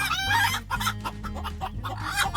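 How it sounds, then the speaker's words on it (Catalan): A Catalan pairal breed hen clucks repeatedly in short, close bursts, with other fowl calling around it in a busy coop. "Aquí veieu una altra gallina pairal"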